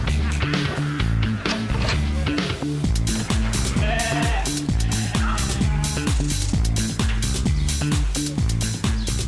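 A flock of sheep bleats loudly and close by, the calls overlapping and repeating almost without pause.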